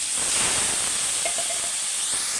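Turmeric, salt and chili powder hiss and sizzle loudly in a hot pan as a little water is added for a vegetable curry of potatoes and drumsticks. The steady steam hiss runs close up, with no voices.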